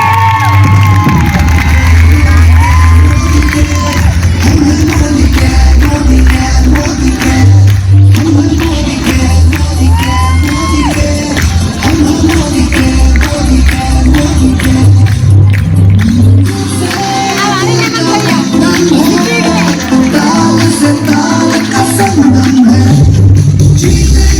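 A large crowd in a stadium event hall cheers, whoops and claps loudly and continuously for people called to the stage, a dense, close roar that swells and dips briefly before building again.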